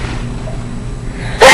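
A single sneeze bursts out suddenly and loudly at the very end, after a stretch of low, steady room hum.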